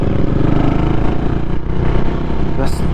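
A CCM Flat Tracker Classic single-cylinder motorcycle of roughly 600 cc accelerates hard through third gear, its loud, continuous engine roar rising and dominating from start to finish.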